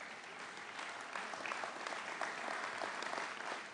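Audience applause at a Canadian Conservative Party rally as leader Andrew Scheer is introduced, a steady, dense wash of clapping from a large crowd that swells slightly partway through and holds without talk.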